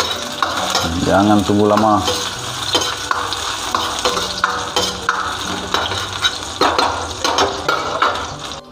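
Shallots, garlic and chili hit a hot pan and fry with a loud, steady sizzle, while a spoon stirs and scrapes repeatedly against the metal. A person speaks briefly near the start.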